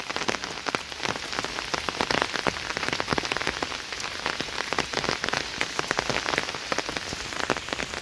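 A pounding village downpour in Bangladesh, rain hammering down in a thick, even roar with tiny splatters, heard alone and close with no voices.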